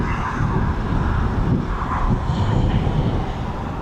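Training-flight aircraft at East Midlands Airport on its takeoff run, a loud, steady engine roar with heavy rumble and wind buffeting, close and continuous throughout.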